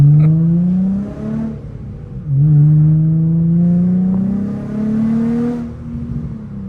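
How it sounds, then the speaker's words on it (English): Infiniti G35 sedan with a modified exhaust, revved in three loud, close bursts, each rising and falling in pitch with a slight rasp. "It might have a little bit more rasp, but it's not like ear piercing like a straight pipe"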